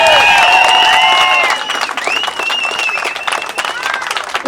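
A protest crowd outside RTE applauds the organisers, a steady wash of clapping at moderate distance with whistles and cheers over it, loudest at the start, then thinning a little while voices continue underneath.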